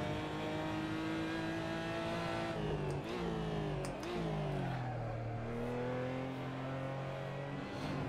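A BMW M235 in a racing simulator revs and climbs through the gears at Laguna Seca, the engine note rising, dipping on shifts and braking, then pulling again, steady and close with no talk.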